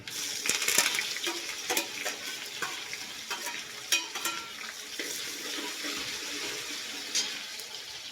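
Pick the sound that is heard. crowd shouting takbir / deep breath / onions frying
onions frying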